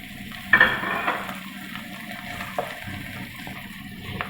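Tomatoes and onions frying into a masala in a pan, a steady moderate sizzle with occasional sharp clinks and stirring scrapes, no voices.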